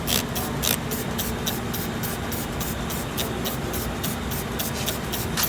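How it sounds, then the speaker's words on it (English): Steady hissing spray of liquid onto a tire's inner rim to find a leak runs throughout, with faint rhythmic pulses on top and a low hum beneath, close and continuous, no talking. "We also spray here too."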